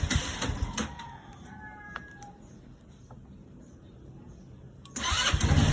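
A motorcycle engine with a starting problem, one that had been sputtering and hard to start, is heard near: a brief burst of noise, a quiet stretch with small clicks, then the engine catches and runs loudly.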